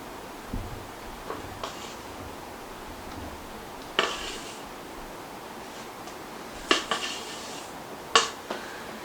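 A spoon clinks and scrapes a few times against a dish while banana split cake filling is spooned over graham crackers, with soft, sparse taps spread over quiet kitchen room tone and no talking.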